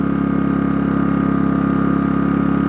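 A Pulsar G2319N inverter generator runs in high RPM mode, a steady, loud, close engine drone with a constant low hum and no change in pitch or level.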